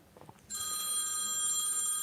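A phone rings with an incoming call, a steady electronic trill that starts abruptly after a brief moment of faint background noise and continues unbroken at moderate loudness.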